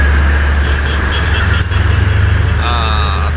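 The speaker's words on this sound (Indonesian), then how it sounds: "Malam hari ini begitu padat, banyak sekali truk-truk besar ya." Dense night road traffic with big trucks and expedition freight vehicles on a road toward Java, a loud steady low engine rumble and drone filling the scene, with a brief tonal whine rising near the end.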